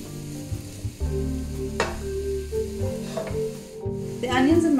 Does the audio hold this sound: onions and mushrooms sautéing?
yes